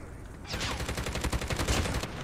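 Rapid automatic gunfire in a Call of Duty Mobile match, Kilo 141 rifle, a dense close burst of shots sustained for about two seconds after a quiet start.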